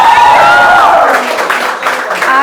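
An audience at a comedy show claps for the host, loud dense applause with some cheering, while a voice talks over the start of it.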